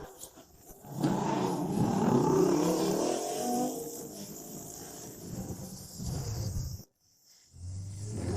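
A motorcycle in a stormy village at night revs up with a rising, rumbling engine roar that swells and then fades, ending in a sharp cut to quiet before a low rumble returns, over steady insect-like chirring; no talking.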